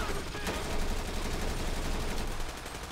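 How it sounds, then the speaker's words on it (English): Gunfire rattles through a police bank heist shootout in GTA 5 with the LSPDFR mod, a dense run of shots under constant noise with one sharper crack near the start. "Where am I getting shot from?"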